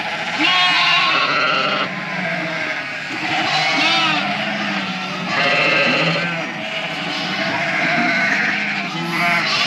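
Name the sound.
ewes bleating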